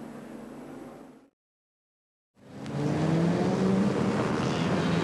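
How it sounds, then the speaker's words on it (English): A Toyota Celica sports sedan races at Adelaide International Raceway, loud engine roar and tyre noise breaking off into a second of silence before the race car's engine returns strong and near, pitch rising. "The Toyota Celica across the finish line now, just ahead of car 47"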